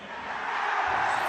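A stadium crowd in Bangui cheers for the Russians, a dense, steady roar of many voices, loud and continuous through the short stretch.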